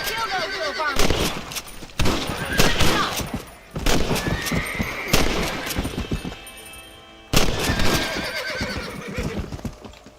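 Rifle gunfire in the Western video game Red Dead Redemption, sharp loud shots cracking at irregular intervals amid horse whinnies and hoofbeats, with talk and game sounds in between.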